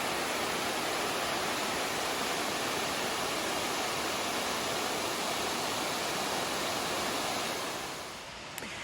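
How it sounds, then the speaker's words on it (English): A waterfall at the end of a hiking trail pours as a loud, steady broadband roar, close and unbroken, easing off slightly near the end. "at the end, there was this beautiful waterfall that I've taken some B-roll of,"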